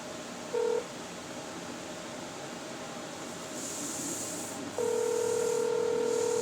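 Telephone dialing tones sound as a call is placed, a short beep early on and then a long steady tone over a low hiss, fairly faint, with no talking.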